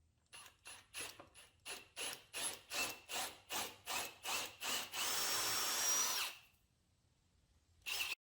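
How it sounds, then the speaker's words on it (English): A power drill bores deeper holes into wood for longer dowels while building a workbench outfeed table, with a rapid run of about a dozen short rhythmic bursts, then one sustained whine that cuts off, and a final brief burst. "I'll make the holes a little deeper for longer dowels"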